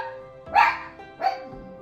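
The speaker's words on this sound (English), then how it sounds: "Pardon the dogs." Two separate dog barks ring out at moderate distance, each a short sharp burst, spaced about a second apart over a quiet indoor background.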